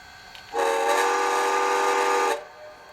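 A Bachmann HO scale model steam locomotive, a New York Central 4-6-4 J3A Hudson #5432, sounds its stop whistle: one loud, steady tonal blast lasting under two seconds, close by and alone, with quiet before and after.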